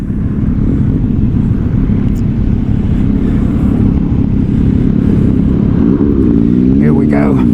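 MV Agusta Brutale 1000 motorcycle roaring at speed, heavy engine rumble dominating with another bike revving hard behind; a rising whine near the end, loud wind buffeting throughout.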